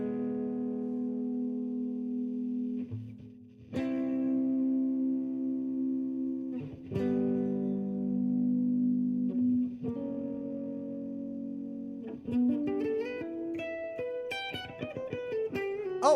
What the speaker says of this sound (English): can you hear the difference between a minor third and a major third?